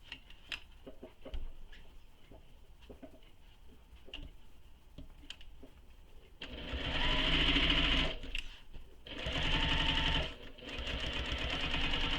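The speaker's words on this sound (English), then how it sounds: "Now we're going to sew this long edge here with the seam allowance given in the pattern." Sewing machine stitching the long edge of a tote bag, first a few soft ticks and clicks, then two loud sustained bursts of fast mechanical running separated by a short pause, close up.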